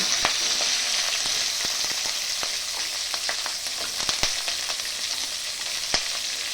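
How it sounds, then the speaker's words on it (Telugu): Onions, green chilies and garlic fry with tempering spices in a pan, a loud, close, continuous sizzle punctuated by crisp pops and spatula scrapes, with no talking. "ఇది కొద్దిగా దోరగా వేయించుకోవాలి. చూడండి, కొద్దిగా ఫ్రై అయ్యాయి."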